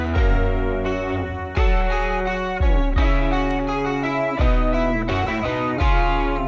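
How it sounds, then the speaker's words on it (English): Classical-style music in straight eighth notes with plain diatonic functional harmony, sustained chords struck in repeated phrases with strong low bass attacks every couple of seconds, steady and fairly loud with no voices. "Whenever you have like very straight eighth notes, like very diatonic functional harmony"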